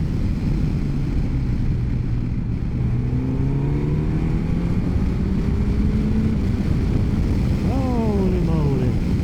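A Suzuki GSX S1000GX motorcycle engine pulling hard on a test ride, loud and close, its pitch rising through gears with quick upshifts near the end, under wind noise and occasional talk.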